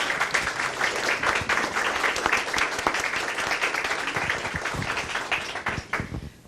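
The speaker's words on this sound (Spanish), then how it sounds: "tal vez que les brindemos un fuerte aplauso a nuestros expositores" Attendees at a seminar on migrant smuggling give the presenters a round of applause, moderately faint, brisk clapping from a roomful of people that runs steadily for several seconds and thins out at the finish.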